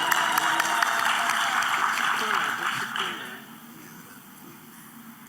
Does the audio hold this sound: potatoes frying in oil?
no